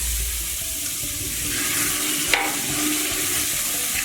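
Spiced masala mixed with a little milk frying in a pan for whole-cauliflower gobhi musallam: a steady, close sizzle with a single sharp clink of a utensil partway through.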